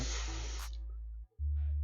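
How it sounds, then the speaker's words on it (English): An airbrush sprays a little gray paint while a dove is being airbrushed: a close, soft hiss lasting under a second, then a low steady hum continues alone. "And we're going to spray a little bit of gray."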